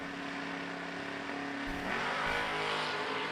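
A Chevy race car launching at a vintage drag race, a loud sustained engine roar that climbs in pitch as it revs and accelerates away, with no voices over it.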